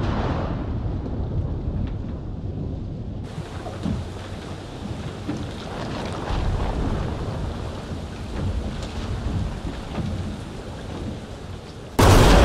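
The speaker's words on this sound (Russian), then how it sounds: "Шторм, да, начинается?" A thunderstorm starting, with steady rain pouring and low thunder rumbling throughout, growing fuller partway through and ending in a sudden loud burst, no voices.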